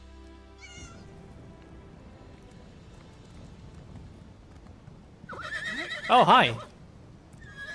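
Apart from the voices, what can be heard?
horse neighing and hooves in video game Elder Scrolls Online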